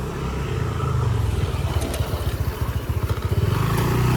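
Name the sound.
motorcycles riding on mountain trail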